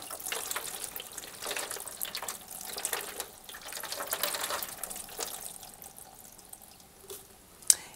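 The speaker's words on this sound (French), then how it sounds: "vous pouvez aussi utiliser une bouilloire et faire couler de l'eau dans le filtre pour essayer de décoller les résidus secs" Water poured from a kettle through the filter of a condenser tumble dryer, a faint, continuous trickle and splash with scattered drips, close by and quiet, no voice over it.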